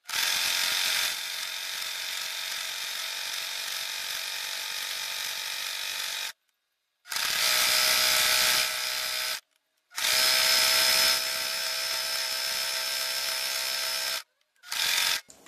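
A domestic sewing machine stitches a seam around a fabric piece with a 1 cm margin. Its steady motor whir runs in three long bursts separated by brief pauses, ending with a short final burst, close and loud, with no talking.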